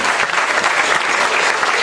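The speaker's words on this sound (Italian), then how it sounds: "E poi un applauso naturalmente per lui." A crowd applauds the designer of a winning drawing, a dense, steady burst of clapping from many hands, loud and close, with no voices over it.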